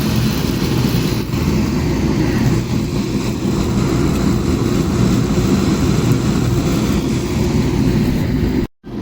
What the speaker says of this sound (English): So now we're cutting the valve stem out.